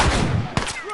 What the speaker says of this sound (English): I shot that dude straight in the back